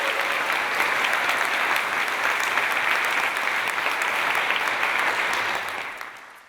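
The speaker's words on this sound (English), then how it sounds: "some applause for my colleagues" An audience at a university convocation gives dense, sustained applause that holds steady at full strength and then fades out over the last second.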